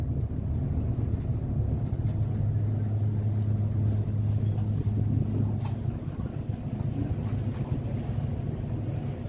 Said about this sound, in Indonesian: kita mulai perjalanan dengan menaiki perahu